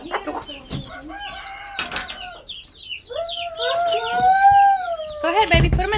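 Hens clucking and calling close by, with a rooster-like crowing note, under a few brief bursts of talk and some handling noise.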